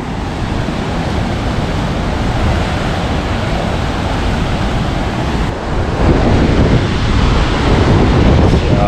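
Forceful water rushing past on a mountain trek, a loud, dense, continuous roar with wind buffeting the microphone, growing heavier in the last few seconds.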